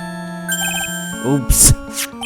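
A phone ringtone in the courtroom game Phoenix Wright: Trials and Tribulations plays a short electronic melody of tonal beeps and chirps, followed by a brighter ringing burst, set against a steady hum of game music.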